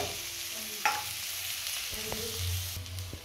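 Grated vegetable goes into a hot pan with cumin and sizzles softly, followed by a few scraping stirs and light clinks of the utensil, close and quiet, with no one talking.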